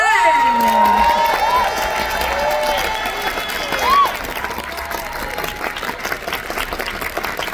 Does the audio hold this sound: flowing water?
no